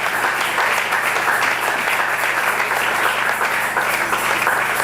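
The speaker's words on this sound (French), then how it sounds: "Est-ce que tu peux acclamer Dieu très fort?" A church congregation at a Sunday service applauds steadily and densely throughout, a continuous wash of many hands clapping with some cheering mixed in, fairly loud and close.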